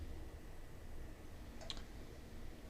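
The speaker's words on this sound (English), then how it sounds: "Click once." A computer mouse gives a single faint, sharp click in a quiet room with a low background hum.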